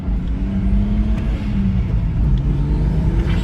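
BMW 335i engine under load with the clutch slipping, a steady low droning growl that dips briefly partway through, close and loud with no talk.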